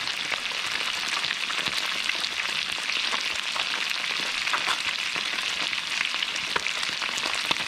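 Close, steady sizzling of octopus frying in a hot pan, crackling and popping continuously with no talking.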